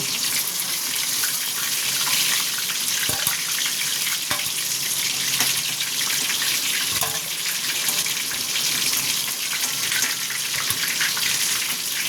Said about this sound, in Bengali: এইভাবে আমি ভেজে নিই